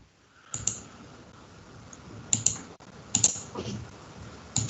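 Keys clack on a computer keyboard as code is typed in a development tool, in a few short bursts of close, crisp clicks separated by brief pauses, with no talking.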